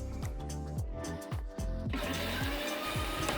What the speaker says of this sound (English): Blend this for a bit to smooth it out.